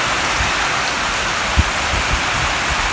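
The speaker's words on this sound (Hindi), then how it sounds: "बड़ी थोड़ी बारिश जारी है" Light rain falling outdoors over crop fields, a steady soft hiss of drops with a few faint low thuds, continuous and evenly spread.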